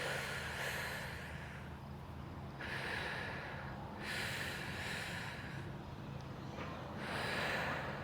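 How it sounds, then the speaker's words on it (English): Deep controlled breathing during an at-home dumbbell workout, alternating long drawn inhales and slow exhales in a steady rhythm, close and fairly soft against a faint background hum. "Inhale belly, chest, neck, and then exhale."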